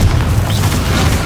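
A loud, booming Confringo fire-spell explosion from Hogwarts Legacy, its deep rumbling blast filling the whole moment with sustained low-end roar and crackle.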